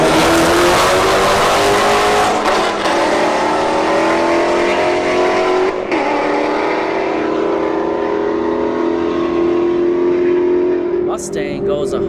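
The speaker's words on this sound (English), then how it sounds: "S197 Mustang, right lane, Civic Type R in the left lane." An S197 Ford Mustang and a Honda Civic Type R launch side by side at a drag strip, engines roaring loudly and revving up through gears over about twelve seconds, with a brief tire chirp near the end.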